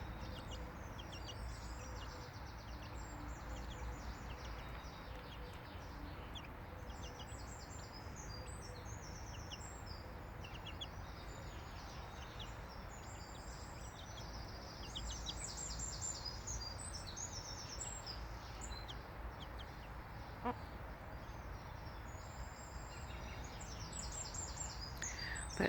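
Silkie hens cluck and call in a backyard coop, a steady mix of soft clucks and chirpy bird calls over a constant outdoor background hum, with no voices.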